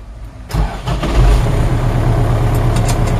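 A 2013 MTZ 82 tractor engine cranks and catches with a loud low thump, then settles into a strong, steady diesel rumble close by.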